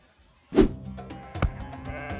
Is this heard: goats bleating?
yes